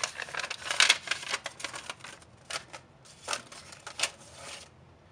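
Small resistors are snapped off a paper tape strip and tucked into a paper envelope, giving close, quiet crinkles, rustles and short crisp tearing bursts in a quiet room.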